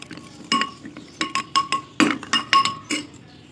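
A spoon stirs chaat of cucumber, boiled red kidney beans, potato, white chickpeas and tomato in a large bowl, giving about nine sharp clinks against the bowl in an irregular rhythm. The clinks sound close and fairly loud, with no talking.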